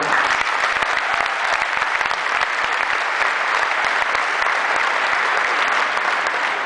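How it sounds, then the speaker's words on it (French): An audience at a university graduation ceremony applauds the graduates, dense sustained clapping from a large crowd that stays loud and even throughout. "j'aimerais qu'on les applaudisse encore une fois"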